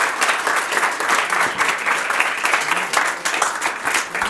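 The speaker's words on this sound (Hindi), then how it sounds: "बहुत ज़्यादा तालियां बजाएं इनके लिए" An audience at a mental health nursing school workshop applauds students' reenactment, a loud sustained wash of many hands clapping close by, steady from start to finish.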